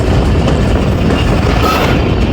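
Pakistani passenger express train rolling along a branch line after leaving Pakpattan in rainy weather, a steady loud rumble of wheels on track with continuous rattling and no break.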